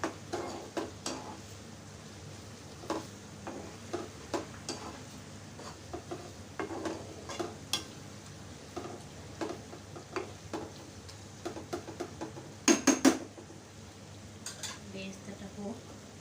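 Onions frying into birista in a pan, a soft sizzle under repeated scraping and tapping of a spoon against the pan, with a cluster of sharper metallic clinks near the end.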